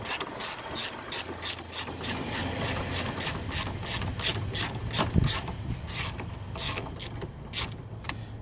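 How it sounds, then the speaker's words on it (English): A ratchet fitted with an extra-long extension and a 13 mm socket works a car battery bolt loose on a Pontiac Grand Prix, giving a steady run of quick, evenly spaced clicks close by with a faint metallic rub underneath. "I just take the ratchet off with the extension and just wheel it right out"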